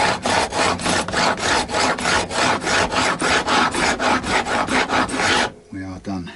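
Metal file rasping along frets on a Fender Lite Ash Telecaster during a refret: a steady rhythm of about a dozen close back-and-forth strokes, then it stops and faint tonal sounds follow.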